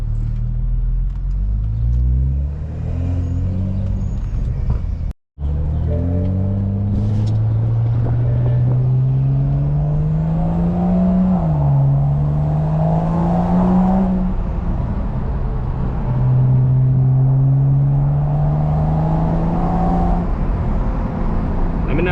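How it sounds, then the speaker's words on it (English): A BMW 535i F10 with a 3-inch single-exit straight-pipe exhaust, a low steady engine drone rising and falling with throttle, revving up at moments, with a brief dropout partway. "I thought this straight pipe was gonna sound way louder than this, but it's not loud. You only hear it like when you press on it."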